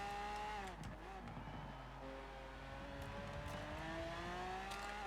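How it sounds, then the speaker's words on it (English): A Lamborghini Miura SVJ with a 780-horsepower V12 in Forza Horizon 4, rumbling steadily with sustained engine tones that dip and then climb slowly as it accelerates, with no talking. "Trying to be careful with this mighty V12. 780 horsepower just rumbling."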